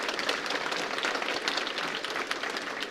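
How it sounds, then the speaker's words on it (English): An audience claps steadily to welcome a guest to the stage, dense even applause from a fair-sized crowd lasting a few seconds. "Let's give her a round of applause."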